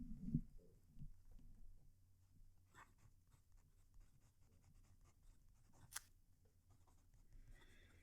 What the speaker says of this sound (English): This is so you can actually hear the pen writing.